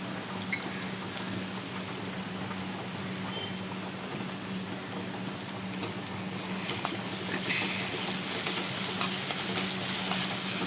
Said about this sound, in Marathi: आवळा टाकून घेऊ आपण बघा